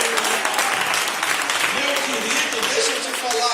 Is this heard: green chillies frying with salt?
no